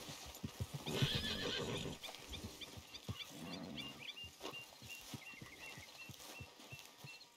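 Horses in Red Dead Redemption 2, several loud whinnies over steady clip-clopping hooves and scattered thumps, with a dense background of game ambience.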